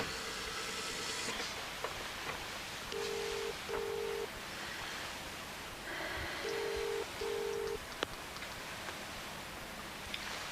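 Push-button telephone dialing, a series of short electronic tone beeps in two pairs against a faint background hiss, quiet and close, with no talk.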